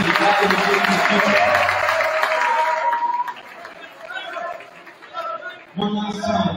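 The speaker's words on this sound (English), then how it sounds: "let's have a big round of applause for all of our seniors and their families." A gym crowd at a boys' varsity senior night game applauds seniors and their families, a dense burst of clapping and chatter that fades after a few seconds before voices pick up again.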